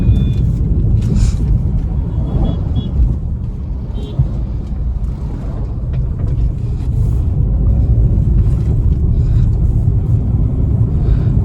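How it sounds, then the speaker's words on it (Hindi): A Maruti Ignis car speeds up on the road, with a steady low engine rumble and road noise running the whole time. It stays continuous and fairly loud, and faint speech sits underneath. "आप एक्सीलेटर पर जब भी पैर लगाओगे कार बहुत तेजी से भागती है।"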